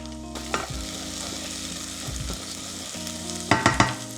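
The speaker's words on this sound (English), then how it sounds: "Occasionally stir the onion." Onion sizzling in a curry pan, a steady fry punctuated by a few clanking stirs of a utensil, with a quick cluster of scrapes near the end.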